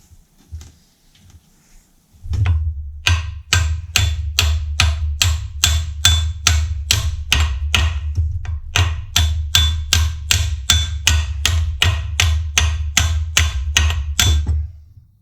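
Hammer blows struck repeatedly on a mini excavator reduction gear axle during disassembly, a steady fast series of about thirty loud, close metallic impacts after a brief quiet start.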